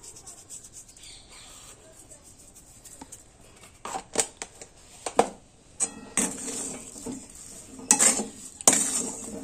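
Metal spatula stirring and scraping hot mung dal dough in a pan, irregular sharp clinks and scrapes growing louder and more frequent over quiet background.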